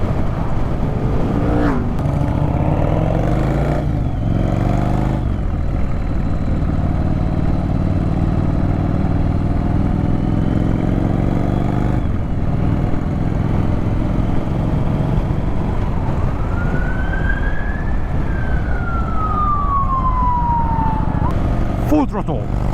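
A Yamaha Virago 1100 motorcycle with a loud exhaust rumbles and revs at close range, a steady, heavy engine roar that rises and falls, with a passing siren sweeping through near the end.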